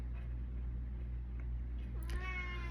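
A single cat meow rises near the end over a steady low hum, close and fairly clear; no fighting noises come through, and a voice murmurs quietly underneath.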